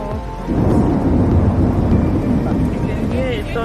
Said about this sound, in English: You can hear it thundering outside.